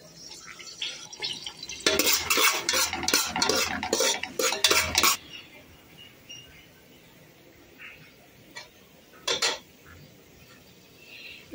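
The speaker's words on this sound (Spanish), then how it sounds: "Ese sazón yo lo voy a sofreír un poco aquí" Seasoning with garlic and ají peppers sautéed in a pot, a dense burst of spoon scraping and clattering lasting a few seconds, then quieter with a couple of later clinks.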